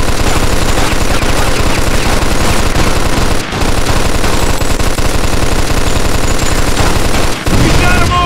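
Sustained, loud automatic machine gun fire in the Mafia 2 video game, rapid bursts running almost continuously with two brief gaps, dense and close.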